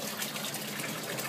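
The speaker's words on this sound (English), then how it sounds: "having such a big stream of water flowing and falling into" Aquaponics water pouring in a strong, steady stream into a fish tank, a continuous close splashing gush with no pauses and no voices.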